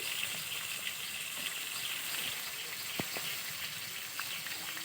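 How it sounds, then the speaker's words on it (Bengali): Silver carp frying in oil on a clay stove, a steady soft sizzle and crackle with faint pops, close and continuous, with an occasional sharp tick of spitting oil. "কতটা সুন্দরভাবে মাছটা ভেজে দেখো বন্ধুরা।"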